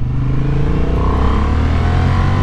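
A Honda Hornet 750 motorcycle pulls away with a loud, steady engine drone and rumble that holds close and constant throughout, no voices.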